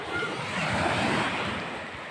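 Waves wash continuously onto a shore in Quezon province, Philippines, a broad steady hiss of surf with some wind noise.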